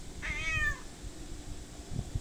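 A cat gives one short, clear meow, fairly quiet and close, in a calm indoor room, with no talking.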